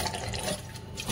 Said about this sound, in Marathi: गरम पाणी फेकून देते।